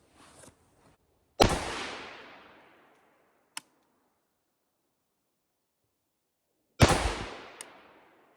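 A Pioneer Arms 5.56 rifle fires Winchester White Box 5.56 ammunition at an outdoor range, two loud sharp cracks several seconds apart, each trailing off in a long echo, with a few faint clicks between.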